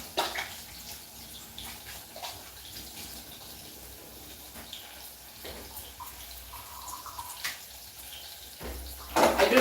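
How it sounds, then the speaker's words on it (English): Running tap water splashing over hands being washed in a home kitchen before cooking, a steady broadband rush with small bursts of splashing, fairly close, with no talking. "My hands are very clean, but let me just wash again."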